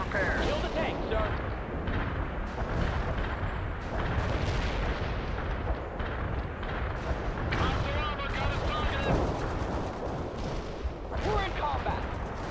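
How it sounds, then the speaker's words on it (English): Artillery shells raining on target coordinates in World in Conflict: Soviet Assault: repeated booms and crackling gunfire form a busy battle soundscape, with radio-style voices talking over the barrage throughout. "Delivering a rain of shells at target coordinates."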